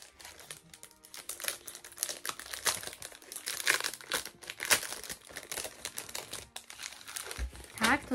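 Packaging of a Harry Potter gift set is torn open and crumpled, busy close crinkling and ripping of paper and plastic in irregular bursts, with faint voices underneath.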